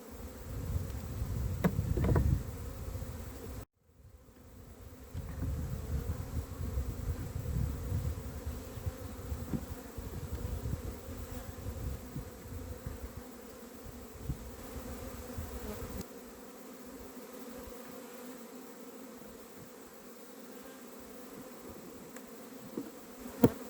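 Honey bees buzz steadily around an opened nucleus hive during an April check, a continuous close hum with a brief dip early on, then softer droning as the colony settles.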